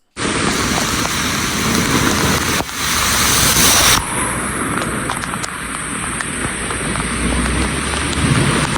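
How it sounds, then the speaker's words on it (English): Heavy storm rain pours onto a flooded King Street intersection in Newcastle as a car drives through the water, a loud, constant roaring wash with a swell and a sudden shift midway. "This was recorded during the storm itself."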